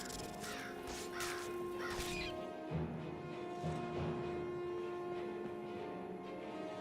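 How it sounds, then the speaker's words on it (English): Crows in Skyrim caw in a burst of attacking calls that fade after a couple of seconds, leaving a steady tonal game ambience with a few thuds. "The birds are attacking."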